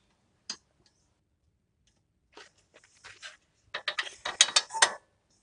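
Ratchet clicking in short bursts while bolts are fitted from behind a Mitsubishi Pajero wheel hub, a single tick then quick rattling runs, close and fairly quiet.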